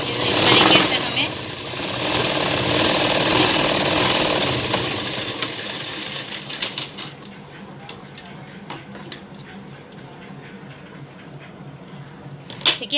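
Sewing machine doing straight stitching on a lined katori blouse, a running mechanical hum under a voice speaking throughout, louder at first and then settling into quieter ticking stitches.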